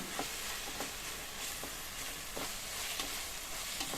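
Crushed green chillies sautéing in a pan, with a dense, even sizzle and occasional soft stirring scrapes at an irregular pace, close and moderately quiet, with no voices.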